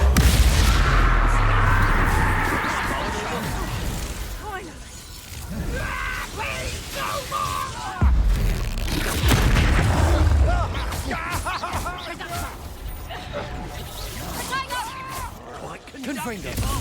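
Expulso blasting spell cast in Hogwarts Legacy, a loud burst with crashing, shattering debris and mechanical clatter amid game effects, followed by further combat impacts, with someone talking over much of it.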